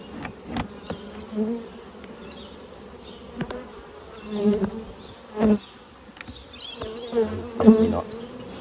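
Bees buzz steadily around a five-frame nucleus hive, a dense drone with individual insects swelling louder as they pass close.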